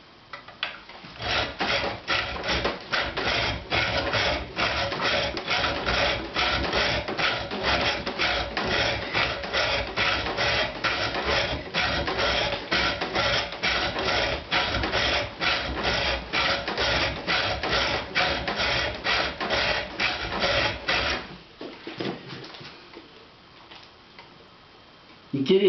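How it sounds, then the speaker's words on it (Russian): A hand file rasps over jaw harp plates in rough shaping, giving fast, steady, regular strokes that stay loud and close for about twenty seconds before trailing off into quieter scraping. "Грубую обработку напильником."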